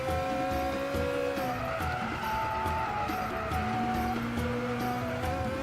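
A Ferrari California in Gran Turismo 6 skids off the road, its tires squealing in long, wavering tones over a steady engine drone, continuous and fairly loud with no voices.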